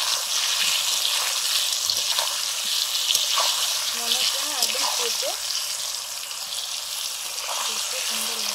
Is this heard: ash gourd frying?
yes